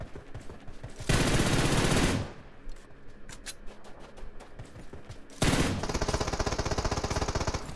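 Rapid automatic gunfire in PUBG Mobile, two loud sustained bursts of rattling shots with quieter scattered single cracks and footsteps between them, close and dense.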